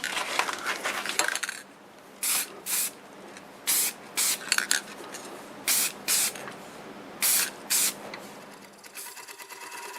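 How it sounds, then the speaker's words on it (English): Short bursts of finish sprayed onto the back of a wood-turned bowl made from a board, about eight separate hissing blasts in a steady rhythm. A fainter mechanical hum runs between them. "I will show you that I'm going to spray the back"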